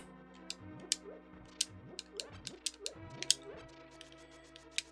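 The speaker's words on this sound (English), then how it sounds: "Pulling that lever will blow up the wall." A lever is pulled to blow up a wall in The Legend of Zelda: A Link to the Past, heard as a string of mechanical ratcheting clicks and creaks with sharp ticks, repeating unevenly for several seconds.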